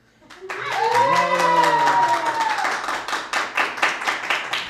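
Studio audience at a podcast taping lets out a drawn-out cheer and whoop that gives way to steady, rhythmic clapping, loud and close, with a few voices mixed in.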